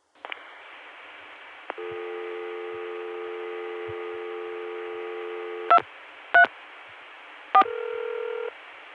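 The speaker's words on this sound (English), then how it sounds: "I dialed a 3-digit extension." A vintage 1981 telephone line produces a click and a steady tone, then three distinct touch-tone digit bursts in quick succession as an extension is dialed, followed by a new steady tone.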